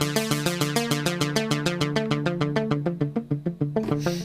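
Armed Spikes, an arpeggiated synth patch from Project Alpha, plays a fast, steady run of bright plucked notes stepping through a repeating pattern, loud and alone, ending with a brief noisy swell.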